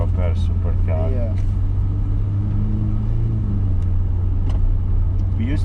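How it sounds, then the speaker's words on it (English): A Ferrari F8 Spider with a mid-mounted V8 cruises along, its engine a steady, low rumble heard from inside the cabin while people talk over it. "with the F8 you have got a V8 middle engine Ferrari that you can use daily"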